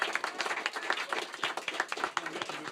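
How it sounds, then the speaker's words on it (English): Audience applause at a live music show, a few minutes of scattered, moderately loud clapping from a small crowd, steady throughout. "So a special round of applause to Mike Daddy Cannon over here on mobile cam"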